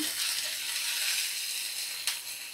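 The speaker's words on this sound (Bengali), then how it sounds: "পেঁয়াজ দিয়ে নাড়াচাড়া করে নিচ্ছি" Chopped onion sizzles steadily in a hot pan, a bright continuous frying hiss with a brief louder scrape of stirring near the end; no voices.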